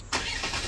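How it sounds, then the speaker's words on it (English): A Malaysian budget pickup truck's engine is started with a key, catching abruptly and settling into a brief, fairly quiet idle. "Can't remember the last time I used a key to start a car."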